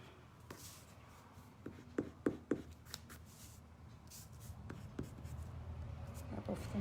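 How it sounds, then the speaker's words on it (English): A rubber eraser rubs pencil marks off paper at a craft table, quiet scratchy strokes with a few sharper taps, under a faint voice. "Rub off the marks I've got here."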